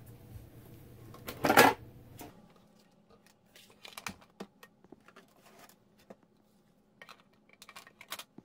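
Scissors snip out a stamped paper card piece, a few faint, sparse clicks and cuts close by after a brief louder rustle, in an otherwise quiet room.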